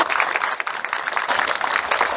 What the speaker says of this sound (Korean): 모두 뜨거운 박수로 맞이해 주십시오.